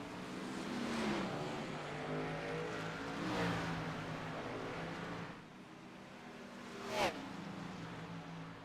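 NASCAR race cars on pit road at Darlington Raceway in the iRacing sim, engines droning and revving at moderate distance, with a sharp pass-by whoosh near the end and faint commentary underneath.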